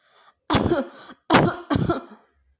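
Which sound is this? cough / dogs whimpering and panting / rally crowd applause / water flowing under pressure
cough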